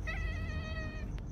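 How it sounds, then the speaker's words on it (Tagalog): A single drawn-out cat meow, clear and close, with a short scratchy sound just after it ends. "Gutom ka na, Meow?"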